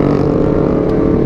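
A Honda CBR 250 RR motorcycle engine drones steadily and loudly while riding at night, a continuous low hum with wind rush and no talk.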